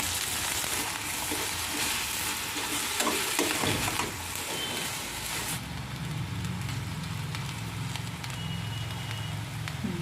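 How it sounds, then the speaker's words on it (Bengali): Eggplant pieces fry lightly in hot oil, a steady close sizzle with faint scraping of a spoon, continuing unbroken and evenly loud with no voices. "এবার হালকা করে আমি ভেজে নেব বেগুনগুলো"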